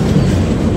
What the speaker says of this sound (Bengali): আমাদের ট্রেন ঢুকছে এখন কাটোয়া জংশন স্টেশনে।